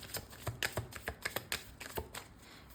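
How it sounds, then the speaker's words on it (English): Tarot cards are shuffled by hand in a quiet room, producing a quick series of soft crisp riffling snaps and taps in an uneven rhythm, close and fairly faint, with no talking. "you can always skip the part when I'm shuffling"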